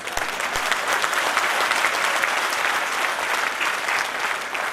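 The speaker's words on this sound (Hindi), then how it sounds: "ताली या तो बजा सकते हैं या नहीं भी बजा सकते हैं, लेकिन बजाएंगे तो भरपूर ही बजानी पड़ेगी।" An audience at a district cabinet installation event claps steadily and evenly, dense applause filling the room throughout with no voices over it.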